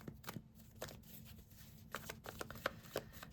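Tarot cards are shuffled by hand in a quiet room, a string of soft crisp riffling slaps and flicks coming in short irregular bursts, close and faint, with no voices.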